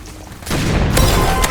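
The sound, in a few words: RPG firing in video game Hypershot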